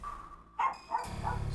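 A pet dog gives a couple of close, sharp barks with brief gaps between them, followed by a steadier background rumble, and nobody speaks.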